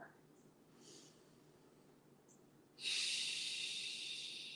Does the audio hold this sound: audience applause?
no